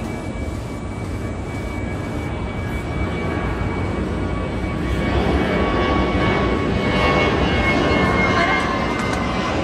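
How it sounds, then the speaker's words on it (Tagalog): Airplane flying overhead near a condo building, a broad steady engine roar that swells louder in the second half, with faint voices and background noise underneath. "Uy, may airplane doon."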